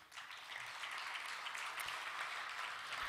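An audience applauds at a concert during a Latgalian cultural awards evening, a fairly faint, sustained wash of many hands clapping for about three seconds, with no talk.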